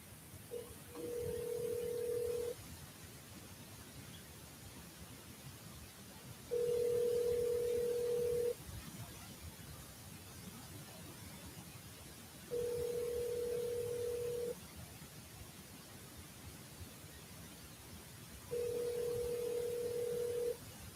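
A phone line rings four times at an even pace, each ring about two seconds long with a long gap between, over a faint steady hiss. No one speaks while the outgoing call waits to connect.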